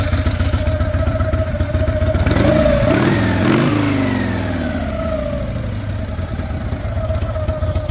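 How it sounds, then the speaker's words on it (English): A Harley-Davidson Panhead motorcycle engine fitted with an S&S carburetor idles steadily and loud, with a brief blip of revs partway through before it settles back to a lumpy idle. "Didn't like that Panhead sound."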